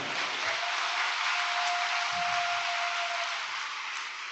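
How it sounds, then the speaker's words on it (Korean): Audience applause at a report event, a steady wash of clapping throughout, with a faint sustained tone underneath and no one speaking. "큰 박수로 맞이해 주시기 바랍니다"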